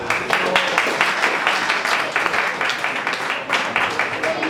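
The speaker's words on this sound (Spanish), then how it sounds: "Un fuerte aplauso para él." A church congregation applauds a brother who is about to speak, with brisk clapping spread across the room and voices talking underneath.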